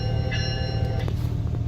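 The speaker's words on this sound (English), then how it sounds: "Here's a laptop that plays the bell sound." A Graham White E-Bell sound played from a laptop mounted on a truck rings out in steady, sustained tones over a low engine-like rumble, close and fairly loud.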